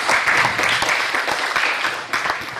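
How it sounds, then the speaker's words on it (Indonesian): A studio audience on a business talk show gives loud, sustained applause to welcome a guest, a thick, steady stretch of clapping that dips briefly near the end, with no voices over it. "Berikan tepuk tangan buat Kang Ciptadi Syahrani"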